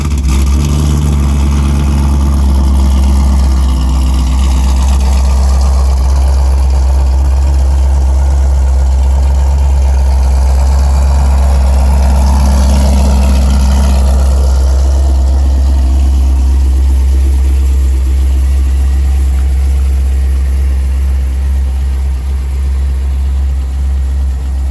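A Holden Commodore SSV / Pontiac G8 GT V8 with Kooks headers runs after a remote start in freezing weather, giving a loud, deep, steady idle with a slight rise in revs near the beginning.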